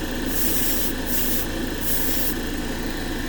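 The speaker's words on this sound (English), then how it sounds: "New airbrush. Entry level. Cheapy, just to put base coats on." A cheap entry-level airbrush sprays base coat in a steady hiss, with the spray cutting in and out in several short bursts close to the listener.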